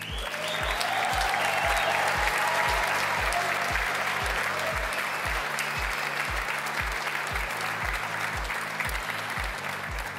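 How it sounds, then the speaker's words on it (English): Sustained audience applause for the judging panel at the World Chocolate Masters awards, loud and steady for the full stretch, with a repeating low rhythmic music beat pulsing underneath. "Please, a big round of applause."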